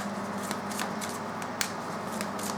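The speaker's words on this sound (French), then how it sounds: "On va utiliser maintenant les cartes de Doreen Virtue." Oracle cards from a Doreen Virtue deck being shuffled by hand, a steady riffling rustle with a few sharper flicks and slaps, close and moderately quiet with no talk.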